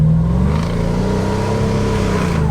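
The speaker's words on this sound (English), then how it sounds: "Hear those turbos." The twin-turbocharged engine of an Aznom Palladium off-road luxury SUV revs and holds a deep, rising growl, loud and close, with no talking.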